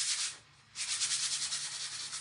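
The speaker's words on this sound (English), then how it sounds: "I just lightly sand it with a sanding block" A sanding block rubs lightly over a pumpkin in quick, steady strokes, with a short pause before a longer run of rhythmic scraping close by.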